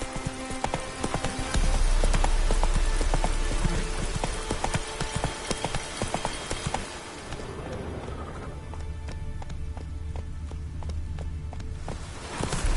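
Roach the horse clip-clopping in The Witcher 3, a steady run of hoof beats close by, loud and rhythmic over a dense game soundscape, slowing slightly toward the end.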